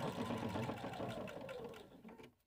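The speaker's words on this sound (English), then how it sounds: "Let's go sew it." A sewing machine stitches hook Velcro onto fabric, a fast, steady mechanical whir with a faint rhythmic needle chatter that slows and stops near the end, heard up close with no talking.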